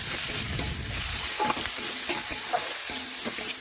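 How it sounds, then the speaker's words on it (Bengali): Potatoes, brinjal and fenugreek greens with salt, turmeric and red chili powder frying in a pan while being stirred. A continuous close sizzle runs throughout, broken by frequent light scraping strokes, with no voices. "দেখুন এইভাবে নাড়াচাড়া করে সবজি একটু ভেজে নিচ্ছি"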